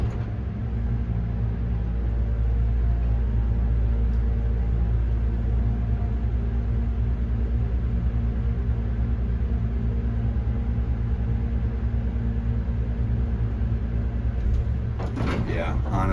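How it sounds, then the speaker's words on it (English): A new hydraulic pump on a Dover elevator at Arlington Apartments runs as the car rides up, a steady low rumbling hum that holds throughout before a brief clatter near the end. "Just take a listen to that pump again."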